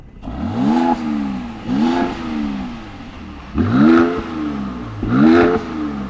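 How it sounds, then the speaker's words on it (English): A 2020 Mercedes-AMG GLC 43 engine in Sport Plus mode revs repeatedly in four rising bursts, each followed by crackling exhaust pops, close and loud with no talking. "you get those nice pops pretty much every time when you're in Sport Plus mode"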